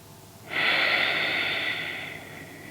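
One long, deep breath during a vinyasa yoga flow, a close, airy rush that swells quickly and slowly fades over a couple of seconds, with no talking.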